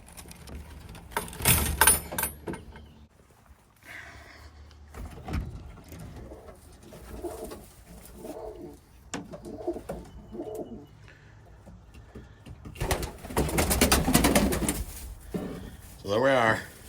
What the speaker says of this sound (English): new MuckLand Griffon pigeons